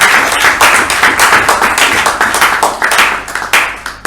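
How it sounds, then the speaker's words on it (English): Small group at a Bangalore Toastmasters club meeting clapping, distinct rhythmic hand claps close by, steady for several seconds before thinning out toward the end. "Let's all give a big round of applause"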